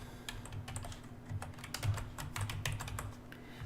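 Rapid, uneven keystrokes on a computer keyboard, close and fairly quiet, tapping out a short entry in a property search form over a steady low background hum, with no voices.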